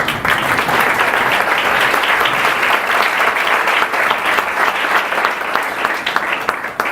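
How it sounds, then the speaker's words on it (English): A standing audience at a homoeopathic medical college gives a speaker a loud, sustained ovation, a thick, continuous roar of clapping from many people that stays strong from start to finish. "we should all stand up and give a standing ovation"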